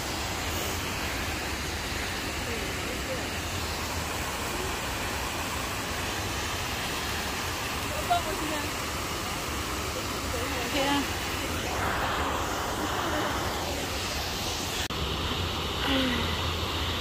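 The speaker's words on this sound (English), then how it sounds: "The waterfall, people." Steady broadband rush of a waterfall heard on a hike near Crescent City, constant and fairly loud throughout, with faint voices and small bumps now and then.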